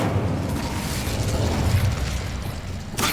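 Incendio fire spell cast in a Hogwarts video game: a steady roaring, crackling burst of fire with a low rumble that holds for about three seconds, then a brief sharper flare at the end.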